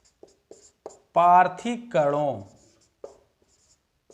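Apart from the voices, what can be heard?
writing on a board while teaching physics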